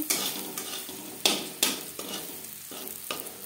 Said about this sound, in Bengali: পেঁয়াজ ভাজা হয়ে গেছে, পেঁয়াজে খুব সুন্দর একটা কালার চলে এসছে।